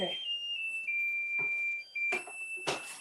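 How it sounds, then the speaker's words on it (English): A kitchen timer alarm rings while chicken is cooking, a steady high electronic tone running for a few seconds, with bursts of clattering kitchen noise over it. "turn off the timer. It's singing at me"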